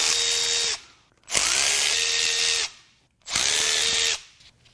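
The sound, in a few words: power tool unbolting fuel pump from BMW N14 engine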